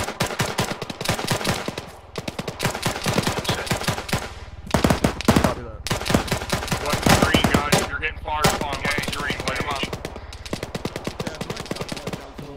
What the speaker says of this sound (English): so we have to return fire.